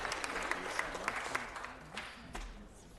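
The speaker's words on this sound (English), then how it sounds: "Let's give them another round of applause." Audience applause fills a city council meeting, a steady patter of many hands clapping that carries on for a few seconds at moderate volume and gradually tapers, with a faint voice underneath.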